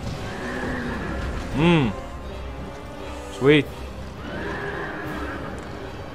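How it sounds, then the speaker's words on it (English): Two loud, close horse neighs in the video game Dark Souls 2, each a rising, quavering whinny about two seconds apart, over a low game ambience with someone talking. "now we're fucking fighting horses"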